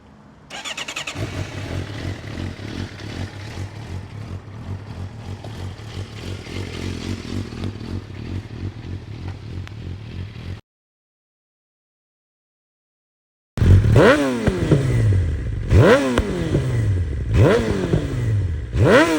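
A Suzuki GSX-R 750 sportbike with 30,000 miles starts and idles with a steady mechanical rumble, then after a short silence revs hard in repeated rising and falling bursts, loud and close.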